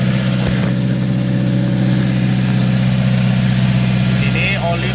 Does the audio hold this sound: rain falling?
no